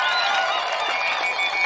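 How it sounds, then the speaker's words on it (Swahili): Audience at a launch event applauding steadily with clapping and crowd noise, the high trilling sounds of ululation blended in, with no break for its short length. "Jamani, tukapigia makofi mengi na vigelegele."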